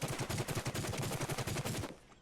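A QBZ rifle in the game Rules of Survival fires on full auto in one rapid, evenly pulsing burst lasting nearly two seconds, loud and close, then cuts off abruptly.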